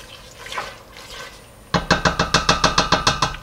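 A pot on the stove simmers while rice cooks, a soft hiss giving way to a regular run of loud, sharp bubbling pops repeating about four times a second, close and prominent.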